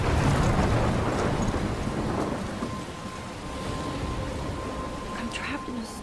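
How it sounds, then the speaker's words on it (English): Thunder rumbles over steady heavy rain in a storm scene from the video game Life is Strange, with a continuous wash of downpour and a low roll of thunder throughout. "I'm trapped in a storm?"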